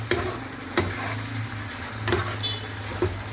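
Soya chunks coated with turmeric cook lightly in a pan: a soft, even sizzle over a low hum, punctuated by several distinct spoon clicks and scrapes.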